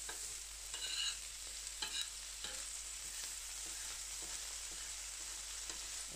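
Sausage frying on a carbon steel griddle over a stovetop, a soft continuous sizzle with a few brief spatters and stirring scrapes, heard alone and fairly quiet.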